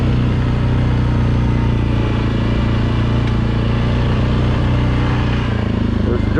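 An ATV engine droning steadily at close range while riding a dirt trail between Ma Deeters and Meadows ORV Campground, loud and continuous throughout.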